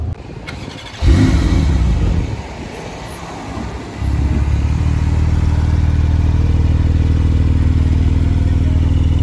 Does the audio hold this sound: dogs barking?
no